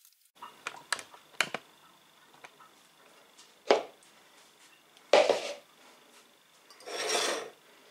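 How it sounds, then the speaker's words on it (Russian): Knife cutting through apples, a series of short scraping, rasping cuts and rubs, several quick strokes early then a few longer separated slices, close and fairly quiet. "все яблоки мы вот так вот режем и складываем"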